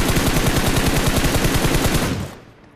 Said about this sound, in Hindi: ये जो फायरिंग हो रही है थोड़े किल निकालता हूँ